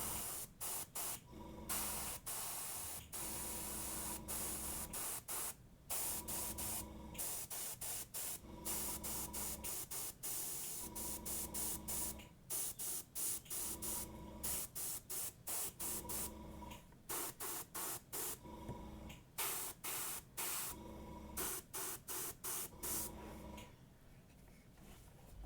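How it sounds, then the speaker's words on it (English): New Squidmar airbrush spraying paint in repeated hissing bursts of one to two seconds, separated by short pauses, close and fairly steady, with no talking over it. "I may get out my new Squidmar airbrush"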